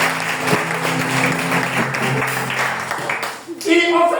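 A church congregation applauds and cheers at a French-language evangelical teaching on raising children; dense clapping mixed with voices fills the space and fades near the end.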